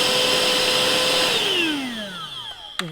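A Tyler 2-in-1 handheld cordless vacuum cleaner with a flat nozzle runs with a steady high motor whine that then slides downward in pitch as it spins down, ending with a sharp click, close and alone.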